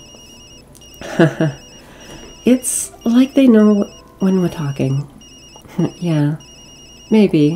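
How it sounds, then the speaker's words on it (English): Phone ringing in the video game Tokyo Dark, a repeating electronic ring pattern of bursts and gaps running steadily under close conversation between characters. "That's my phone."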